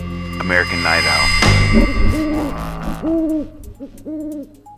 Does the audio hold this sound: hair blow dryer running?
no